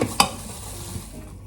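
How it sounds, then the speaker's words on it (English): Sugar and citric acid are stirred together in a bowl, giving a soft, gritty scraping after a sharp clink of the utensil against the bowl at the start. "we're gonna mix together 2 tablespoons of sugar"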